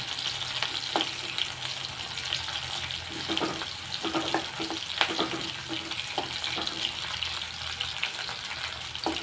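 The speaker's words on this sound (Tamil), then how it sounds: "அந்த வெங்காயம் வணங்குற அளவுக்கு எண்ணெய் விட்டிங்கன்னா போதுமானது." Onions sizzle and fry in a small amount of oil for coconut chutney, making a continuous close crackle with occasional stirring scrapes and small pops throughout.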